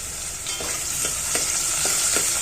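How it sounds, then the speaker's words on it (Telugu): Onions and tempering seeds fry in a pan, a close, steady hissing sizzle punctuated by a few soft stirring knocks at irregular intervals, with no voices. "ఆనియన్స్ పోపు గింజలు వేసేసాను వేగుతూ ఉన్నాయి"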